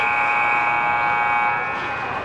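A loud, steady electronic buzzer sounds at the end of an ice hockey game between a junior Ducks team and a BC Blackhawks team at a Vancouver tournament, a harmonic tone sustained for over two seconds before tapering slightly.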